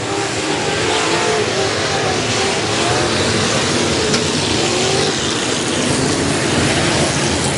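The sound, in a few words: modified race cars racing on a dirt track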